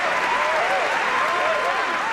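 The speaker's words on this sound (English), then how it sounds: "anytime you want to fire the applause for our home city" Continuous applause from a crowd, steady and fairly loud, with a wavering tonal sound running through it.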